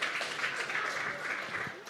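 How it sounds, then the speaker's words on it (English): Applause from the audience at a pitch event spreads through the room as a soft, continuous patter of clapping, with voices faintly audible underneath. "How about a round of applause for Live Nation?"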